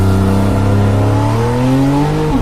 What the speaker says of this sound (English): sports exhaust system with central tailpipes and increased idle speed